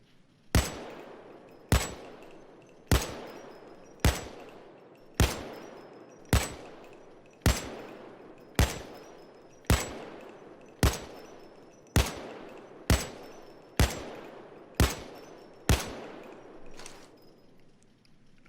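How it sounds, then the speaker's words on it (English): AKM assault rifle fired semi-auto in Payday 2, about fifteen single sharp shots spaced roughly a second apart, each loud and close with a short decaying echo. "fire off this classic Soviet rifle"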